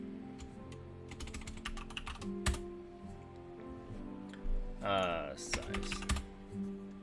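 A computer keyboard clatters with fast, uneven bursts of keystrokes and a few louder key taps, close to the mic, while someone talks over it during a casual cigar chat.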